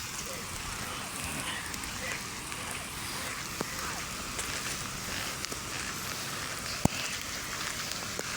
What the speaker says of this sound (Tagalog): Ulan, ang sarap ng ulan.